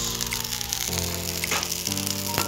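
Fish frying in boiling oil sizzles loudly and continuously at close range, a crackling hiss with a few brief pops and spatters throughout.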